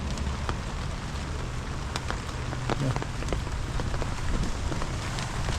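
Steady rain patters on a surface throughout, a dense hiss with scattered drops, ahead of a typhoon at an urban garden; a voice briefly speaks once.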